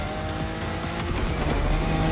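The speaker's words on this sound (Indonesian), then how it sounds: "Ngedrift mobilku." A Nissan drifts in a racing video game, its engine droning while the tires squeal and skid continuously, loud and close, with layered revving and screeching throughout.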